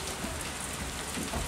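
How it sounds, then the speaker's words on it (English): Rain falling outdoors on Halloween evening, a soft, steady patter of drops hitting surfaces, faint and continuous with no voices. "This is our rainy Halloween."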